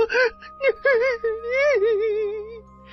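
A woman cries close by, with wavering, high-pitched whimpers and drawn-out sobbing wails broken by short catches of breath.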